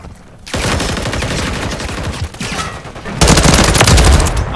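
Dense gunfire in a Call of Duty MWIII multiplayer Domination match: sustained overlapping rifle and automatic fire after a brief quiet start, swelling louder and heavier toward the end.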